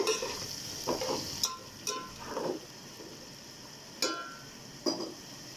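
Garlic-ginger paste stirred into a frying mixture in a pan, a quiet sizzle under several separate scraping stirs spaced a second or so apart, close by with no voices.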